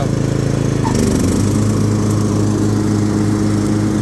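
A Craftsman T2200 riding lawn mower engine runs steadily and loudly nearby, a continuous low droning rumble with no talking.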